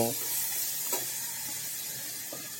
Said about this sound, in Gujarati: જે આપણે કટિંગ કરીને રાખેલા છે તે મરચાં અંદર ઉમેરશું તેમજ જે આપણે શીણેલી દૂધી છે તે દૂધને પણ અંદર ઉમેરી દઈશું